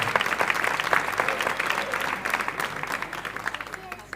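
A concert audience at a big band performance applauds the soloists, including a trumpeter, with a steady wash of clapping that thins toward the end and has no voice over it.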